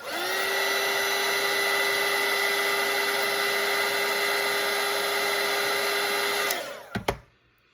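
A hair dryer blows steadily on watercolour paint for about six and a half seconds, loud and close, then switches off with a couple of clicks.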